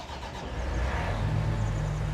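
A tractor engine in Farming Simulator 19 cranks and catches, then settles into a steady low idle rumble, loud and close with no talking.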